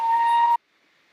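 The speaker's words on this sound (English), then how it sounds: "That's a mating sound of a caribou." A caribou mating call in a tundra setting, heard as one loud, steady tonal blare held for about half a second that then cuts off abruptly into near silence.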